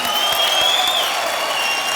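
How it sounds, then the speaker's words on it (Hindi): Studio audience on an Indian TV game-show stage applauds, a steady dense wash of clapping holding at even loudness for two seconds. "तालियां।"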